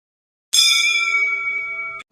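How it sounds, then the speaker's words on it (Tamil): A temple bell in an ancient Indian setting is struck once with a sharp onset, then rings with a clear, steady, shimmering tone for about a second and a half before stopping abruptly. "கோயில் மணியின் ஓசையில் ஆன்மா அமைதியை கண்டடைகிறது."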